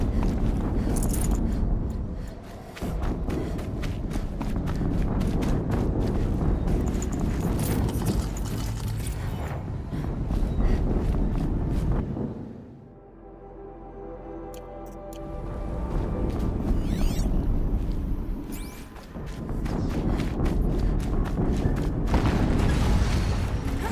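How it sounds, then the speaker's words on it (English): Explosions in the action game Horizon Zero Dawn, played on a PS4 Pro, come as dense, loud booming bursts and rumbling debris with mechanical clanks, filling most of the stretch with a brief quieter lull in the middle. "another explosion."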